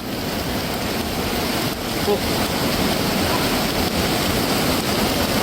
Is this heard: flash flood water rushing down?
yes